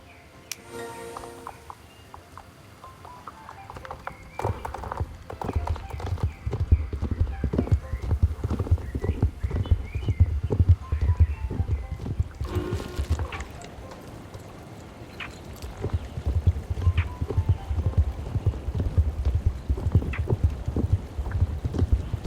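Horse hooves clip-clop steadily while riding across a bridge in Star Stable Online, a close, rhythmic trot that runs nearly throughout, with a whinny and some wind noise along the way.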